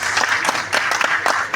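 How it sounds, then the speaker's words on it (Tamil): Audience applause fills the hall at the Soodhu Kavvum 2 Tamil movie audio launch, a dense, loud wash of many hands clapping that swells in rhythmic surges throughout. "நல்ல பலமான கைத்தட்டல்."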